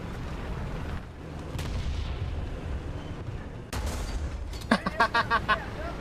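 Several rapid tank gun shots from a Vickers Mk.E Type B in War Thunder ring out in a quick burst near the end, following a steady low engine rumble and a few earlier muffled cracks.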